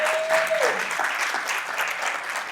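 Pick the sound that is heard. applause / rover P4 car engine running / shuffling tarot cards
applause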